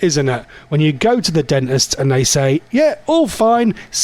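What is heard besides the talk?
No everyday noise stands out behind the speech.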